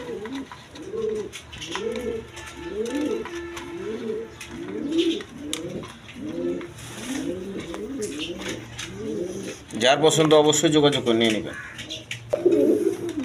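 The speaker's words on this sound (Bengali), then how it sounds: "দর্শকবৃন্দ এখানে এক পেয়ার কালদম কবুতর আছে" A pair of Kaldom pigeons cooing close up, a steady run of rhythmic rolling coos repeating every second or so, later overlapped by someone talking loudly.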